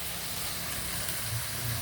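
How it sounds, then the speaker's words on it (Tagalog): Potatoes and carrots frying in a pan, a steady broadband sizzle and hiss that stays even and close throughout the short stretch, with no talk over it. "nagpiprito ako ng patatas saka carrots"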